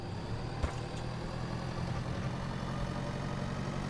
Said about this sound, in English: This is my smaller tractor I have.